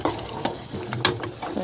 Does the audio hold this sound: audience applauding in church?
no